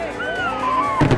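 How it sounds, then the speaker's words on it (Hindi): Fireworks during a Christmas season celebration in Lisbon: rising whistling trails followed by a sudden cluster of sharp bursts near the end, over a steady crowd murmur. "शानदार आतिशबाजी"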